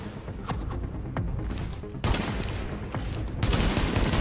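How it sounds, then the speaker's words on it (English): Enemy gunfire in The Division's Manhattan streets: scattered shots and quick bursts crack out at moderate distance, building into a heavier, denser volley toward the end. "So now we just let him keep shooting."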